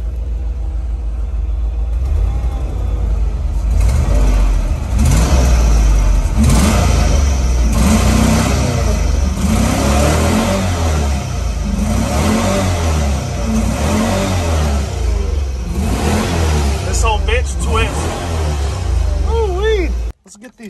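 A Ford Ranger 5.0 GT's V8 revs and accelerates hard, loud and close, with a steady growling roar lasting nearly the whole stretch before cutting off abruptly at the end.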